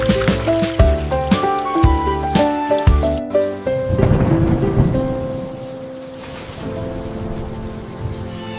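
Rain and thunder in a French children's song: a melodic music passage gives way to a steady rush of rain with a low rumble underneath.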